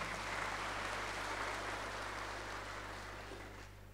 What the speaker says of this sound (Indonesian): Tepuk tangan untuk para wisudawan.